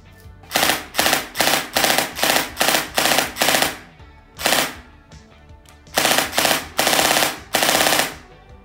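LDT Warinterest HK MP5 gel blaster firing loud rapid full-auto bursts, several strings of sharp mechanical shots with short pauses between them, close and without talk.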